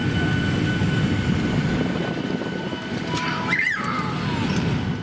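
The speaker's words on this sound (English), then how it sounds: "here's our departure from Abbotsford, taxiing and taking off from runway 25" Inside the cabin of a Swoop Boeing 737-800 taxiing for departure at Abbotsford, a loud, steady engine roar and broadband rumble hold throughout, with a brief whining sweep near the end.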